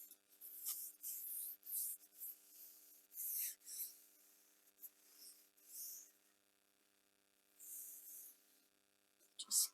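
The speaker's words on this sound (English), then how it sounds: "Just carefully mopping the excess so that it doesn't give me a big back run later on." Tissue dabs and wipes wet watercolour paper, giving a series of soft, close rubbing and blotting swishes in short irregular bursts against near silence.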